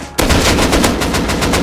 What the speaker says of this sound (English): They have an auto turret down there.